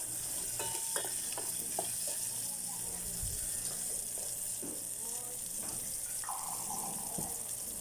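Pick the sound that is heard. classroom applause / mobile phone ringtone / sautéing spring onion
sautéing spring onion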